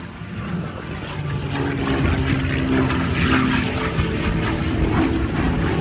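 A P-51 Mustang propeller fighter flies past outdoors, its droning engine swelling louder and holding as a strong, rumbling roar throughout with no talking.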